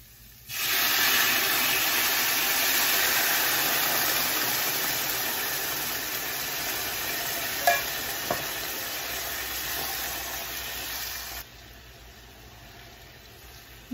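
Coconut milk poured into a pan of curried mussels sets off a loud, steady sizzle that holds for about eleven seconds, with a couple of small clinks of stirring, then cuts off abruptly.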